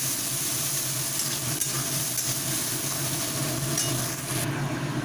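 Chopped onions salted in a pan fry with a constant, close sizzle and hiss, interspersed with faint scraping of stirring, alone without voices.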